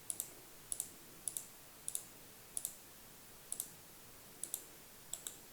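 Mouse clicks sound in quick pairs, eight or so double clicks spaced evenly about every half to one second, sharp and close in an otherwise quiet room.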